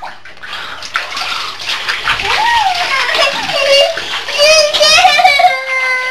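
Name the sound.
child being bathed, water splashing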